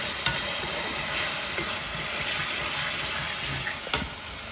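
Red pasta sauce sizzles steadily in a pan while a spoon stirs through it, with a couple of sharp clinks against the metal.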